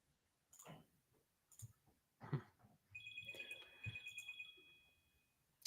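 A smartwatch rings with a repeating electronic ringtone of rapid high beeps for a few seconds, fairly faint, following scattered clicks and brief background sounds.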